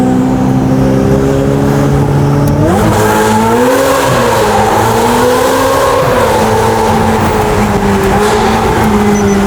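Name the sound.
twin-turbo sports car engine in tunnel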